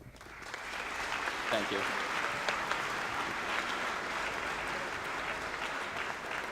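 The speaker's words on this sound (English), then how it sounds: "A big round of applause once again for Connor and Jesse" Audience applause at a Project Hope Strut For The Cure event, a dense steady roar of clapping from a crowd that holds evenly throughout, with a brief spoken thanks early on.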